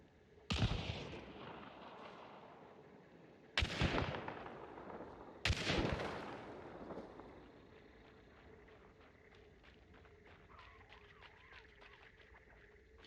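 Three loud, sharp gunshots from video game footage, each spaced a couple of seconds apart and trailing off in a long echoing decay, followed by a quieter ambient tail.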